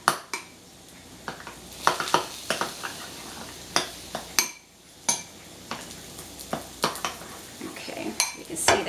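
Egg foo young mixture with green onions being mixed in a bowl: repeated sharp clinks and scrapes of a utensil against the dish in an irregular rhythm, close and fairly loud.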